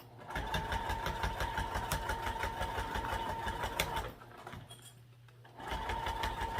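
Sewing machine stitching a quarter-inch seam in fabric, a loud, rapid, steady mechanical whir that pauses briefly and then resumes.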